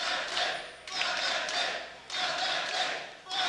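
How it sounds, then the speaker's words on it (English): At a Vitality vs Fnatic League of Legends EU LCS 2017 match, an enthusiastic arena crowd roars in repeated surging waves of cheering and chanting, rising and falling in a rhythmic pattern. "Crowd is very enthusiastic"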